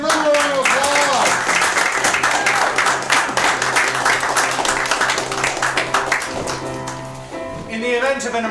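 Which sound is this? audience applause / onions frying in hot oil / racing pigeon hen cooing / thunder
audience applause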